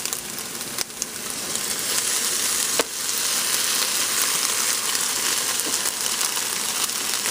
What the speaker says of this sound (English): this is the scrambled eggs with the ham, and I like them a little bit moist